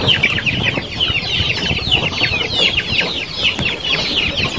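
Chickens and ducks crowd together at feeding time over a mash of coconut pulp and feed, a busy overlapping mix of clucks and squawks with scuffling underneath, close and continuous.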